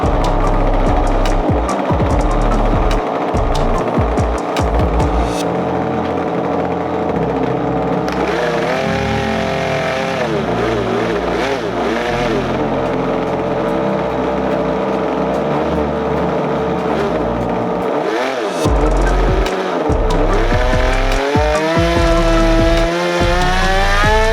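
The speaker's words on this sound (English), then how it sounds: "This is an 8cc engine mounted on the top of a 3D printed mount" A nitro-powered 8cc engine on a 3D printed mount atop a giant model ekranoplan runs continuously and loudly, its droning whine rising and falling in pitch as the throttle changes, with no talking over it.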